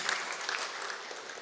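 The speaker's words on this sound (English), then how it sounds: "give a round of applause to all of you for this" Audience at a success meet for the AgniKul Cosmos rocket startup applauds: a brief, dense burst of clapping from a roomful of people, steady and close throughout.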